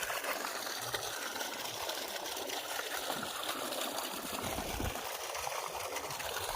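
Water gushing steadily from a farm borewell in green countryside, a continuous close, even rush and splash with no pauses.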